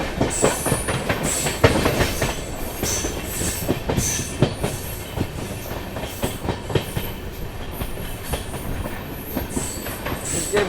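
Amrit Bharat Express running on rails near Lucknow, a steady loud rumble with clickety-clack wheel beats and occasional squeal throughout, no voices.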